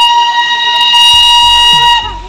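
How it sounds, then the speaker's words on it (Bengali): Darjeeling toy train at Batasia Loop sounding a loud, steady whistle held for about two seconds, with low rumbling underneath and no talk. "ওই টয় ট্রেন আমাদের যাচ্ছে, বাতাসিয়ালুপে ঢুকে গেল।"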